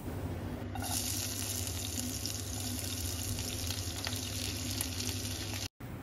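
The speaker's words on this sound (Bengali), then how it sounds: "আর একবার আমি তেল অ্যাড করছি পেঁয়াজ ভাজার জন্য।" Onions frying in oil in a pan for egg fried rice, a fairly quiet, constant hissing sizzle running steadily with faint stirring, ending in a brief cutout of silence just before the close.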